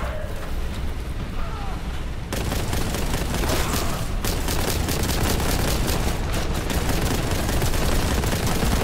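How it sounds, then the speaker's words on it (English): Dense, sustained enemy gunfire in the shooter Warhammer 40,000: Boltgun, with rapid overlapping shots and bursts that swell into a loud continuous barrage after a brief quieter opening. "they're gonna be shooting me from all around"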